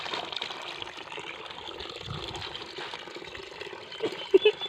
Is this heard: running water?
yes